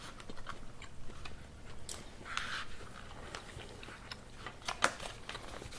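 Close, crunchy chewing of microwave rice mixed with quinoa, red pepper and corn, with irregular bites and a sharper crunch near the end over low background hum.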